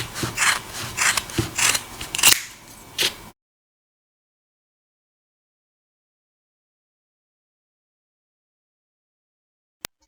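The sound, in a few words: scissors cutting yarn for a crochet gnome beard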